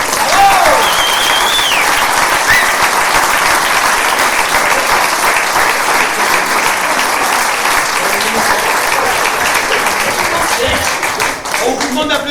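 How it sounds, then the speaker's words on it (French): Thunderous, sustained audience applause fills a French game-show studio, steady and loud throughout, with scattered cheers and a voice or two cutting in near the start before the clapping thins slightly at the very end. "Un tonnerre d'applaudissements pour Lilou"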